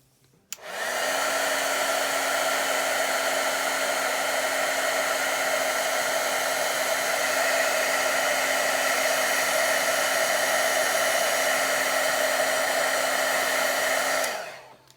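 A heat gun melting embossing glaze powder blows a loud, steady whirring hiss with a constant tonal hum, switched on near the start and off at the end, alone without talk.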